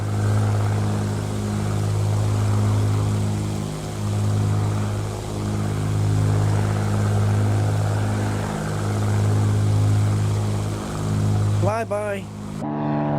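A Black Square Bonanza TP-36 turboprop in Microsoft Flight Simulator 2024 drones steadily with a pulsing propeller hum that shifts in pitch as it passes by, while a voice speaks briefly near the end.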